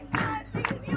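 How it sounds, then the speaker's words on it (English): A Sudanese protest crowd chants "Thawra" in rhythmic, forceful bursts of many voices shouting in unison, repeated in quick succession at moderate distance. "Thawra, they shout, revolution in Arabic"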